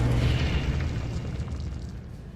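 An Incendio fire spell cast in the video game Hogwarts Legacy erupts as a deep, loud fiery boom that rolls and fades away over a couple of seconds, heard alone.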